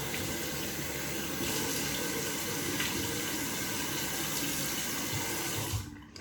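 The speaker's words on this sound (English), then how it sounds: "I just wash it with warm water" Warm water runs steadily from a sink faucet while a face is washed, a close, continuous splashing flow that holds even for several seconds before cutting off near the end.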